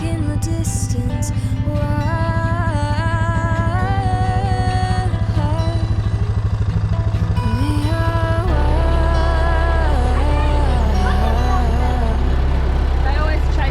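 A farm tractor engine running as a steady, deep droning hum, partly masked by music with shifting melodic tones playing over it.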